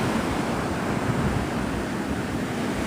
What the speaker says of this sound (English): Like the waves are like turned up to like